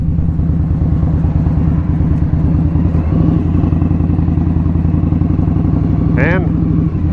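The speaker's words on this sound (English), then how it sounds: "so far the bike seems to be doing pretty good on this highway ride today" An Indian Scout Sixty motorcycle cruising on a highway, its engine a steady, loud low rumble with constant wind roar throughout, and a brief high chirp near the end.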